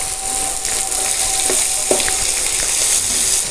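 Sliced onions and curry leaves frying in a pan for a village-style garela pulusu, with a loud, steady sizzle broken by a couple of brief clinks from stirring.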